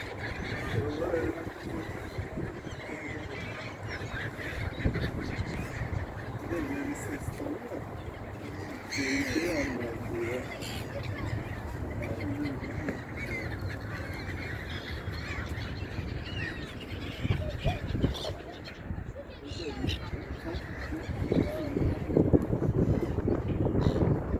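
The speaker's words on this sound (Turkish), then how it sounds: "Harika martılar da tam şurada." Seagulls calling beside Küçükçekmece Lake on a park walk, with bird cries scattered through a steady wash of outdoor noise while voices talk nearby.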